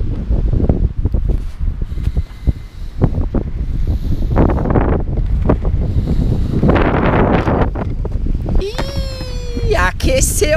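Strong wind blasting a microphone outdoors during a skating session in rain and cold, loud continuous buffeting with gusts throughout and skate noises and a voice heard near the end.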